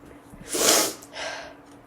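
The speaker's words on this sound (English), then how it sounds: "That sneeze really got to me" A single sharp sneeze, loud and close, with a brief breathy follow-up.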